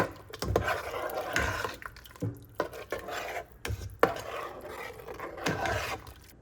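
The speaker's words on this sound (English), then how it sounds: "And we're gonna stir all that in together." A spoon stirs a pot of creamy sausage tortellini soup in repeated slow strokes, giving rhythmic scraping and wet sloshing sounds close by, with no speech.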